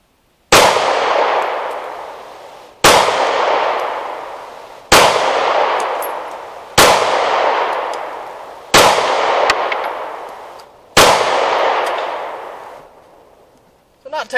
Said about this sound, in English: No, it's a really light recoiling gun.